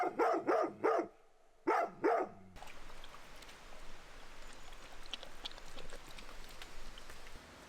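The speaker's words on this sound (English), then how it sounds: "There are dogs everywhere." Dogs bark close by in two quick bursts of several sharp barks, then give way to quieter outdoor background noise.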